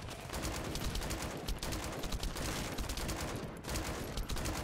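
Player's gun firing in The First Descendant, a continuous burst of rapid shots that is loud but dense and steady, with only a few brief gaps.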